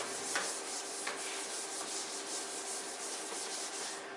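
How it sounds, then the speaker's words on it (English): Chalk being rubbed off a classroom blackboard with a steady, continuous scrubbing hiss, fairly close, with a couple of brief harder strokes early on and no talking. "I am rubbing the board now."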